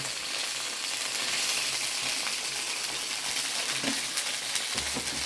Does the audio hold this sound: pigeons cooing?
no